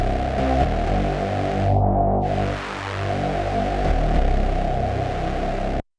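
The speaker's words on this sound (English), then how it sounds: "And again, it's different in parallel." A sustained Access Virus TI synthesizer tone with its filters routed in parallel, a dense, buzzing low end and a sweeping filter that briefly darkens the highs midway, then opens again before stopping.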